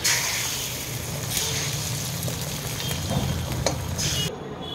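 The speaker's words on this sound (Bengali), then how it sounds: "ডিমটা ফেটিয়ে নিয়েছি একটু নুন দিয়ে, এই তেলের মধ্যে দিয়ে দিলাম। এবার এটা আমি ভুর্জি করে নেব।" Beaten salted egg frying in hot oil in a pan as it is scrambled into egg bhurji, a steady close sizzle with light stirring scrapes throughout and no talking.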